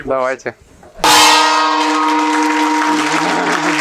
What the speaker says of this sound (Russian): он заходит и бьет по гонгу.